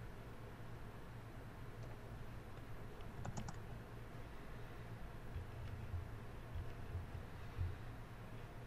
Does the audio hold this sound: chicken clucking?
no